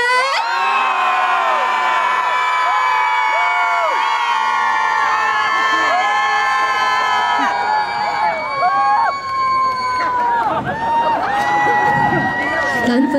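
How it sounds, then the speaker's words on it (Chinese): A large crowd at an outdoor concert at Chaotian Temple in Wuri, Taichung, cheers and shouts loudly and continuously, with whoops and screams rising over a dense wall of voices. "来，左边的朋友，欢呼声。"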